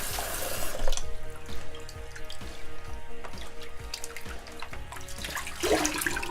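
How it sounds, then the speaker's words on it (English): Cold tap water runs into a sink as homemade filter bio bags for a fish tank are rinsed, with a steady splashing flow and a few sharper splashes near the end. "I'm just going to kind of rinse them with some cold water because they're really hot"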